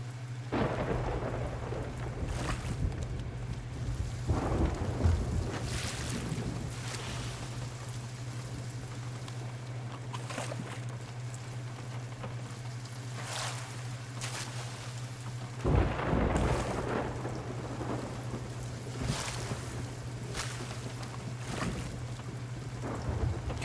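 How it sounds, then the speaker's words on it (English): Steady rain pours over a pirate ship in the Sea of Thieves video game, while thunder rolls and cracks in several heavy bursts, one near the start and a loud one about two-thirds through. "God, it just keeps raining."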